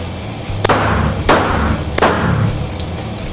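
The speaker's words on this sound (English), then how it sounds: "As an example, this is a 9mm Glock pistol." A 9mm Glock pistol fired in an indoor shooting range: three sharp, loud gunshots about two-thirds of a second apart, each with a reverberant tail in the enclosed room, no talk.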